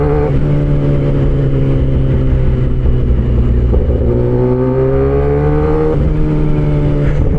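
A Kawasaki ZX-10R motorcycle engine runs loud and close, holding a steady drone before its pitch climbs and falls through a rev.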